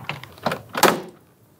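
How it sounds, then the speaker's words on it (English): Three sharp plastic pops and thunks come close together as a 1999-2004 Jeep Grand Cherokee front door panel is pried off, the last pop loudest, then quiet. "I'm going to pull that door panel off."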